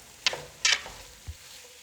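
Spatula scraping and stirring a sausage and potato mix in a skillet, two quick bright scrapes followed by a soft thump, with faint sizzling underneath.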